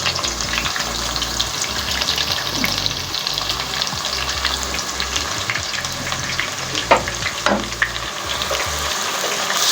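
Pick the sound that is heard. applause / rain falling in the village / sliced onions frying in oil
sliced onions frying in oil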